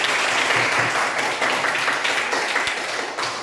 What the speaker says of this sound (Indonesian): Oke, mantap ya, bagus, tepuk tangan.